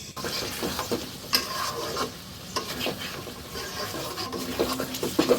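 Mutton curry is stirred and fried in a pan until browned: continuous, close scraping and knocking of a spatula against the pan over a low sizzle.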